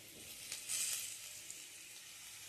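Poppy seed paste, ground on a grinding stone, goes into a pan of potatoes and drumstick flowers for a traditional Bengali dish, giving a faint, soft sizzle with a brief brighter hiss.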